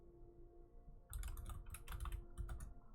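Typing on a computer keyboard, a quick burst of close key clicks that starts abruptly and runs on steadily for a couple of seconds, with no talk.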